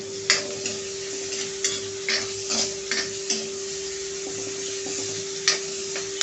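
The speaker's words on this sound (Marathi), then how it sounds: "आता हे 5 मिनिटं छान असं परतून घेऊया" Onion and tomato sautéing in a pan for a flower-batata bhaji: a steady soft sizzle runs throughout, broken by occasional stirring scrapes and a few louder clicks, close by with no talk.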